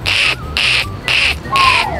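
Four shrill, squawking bursts in a regular rhythm, a voice mimicking a parrot's harsh call, loud and close.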